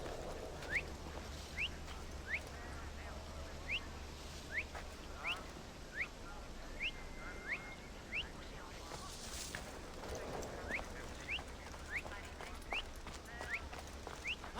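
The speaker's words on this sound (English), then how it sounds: "I hate whistling!" Repeated short rising whistles in the video game Assassin's Creed Odyssey, spaced regularly over a quiet ambient background with low rumble, fairly faint overall.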